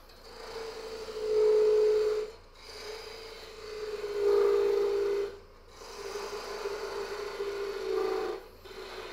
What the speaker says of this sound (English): I'm going to use a parting tool here and bring this part down